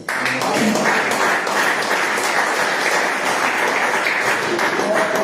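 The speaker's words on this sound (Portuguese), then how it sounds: "As palmas ao Senhor." Evangelical congregation applauding during a sermon, a loud steady wash of many hands clapping sustained throughout, with voices mixed into the clatter.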